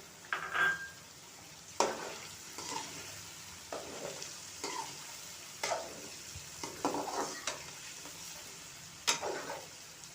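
Vegetables with carrot cut into chip-style strips fry for jungle pulao while a utensil stirs them, giving a soft sizzle broken by repeated scraping and clinking strokes against the pan at an uneven pace.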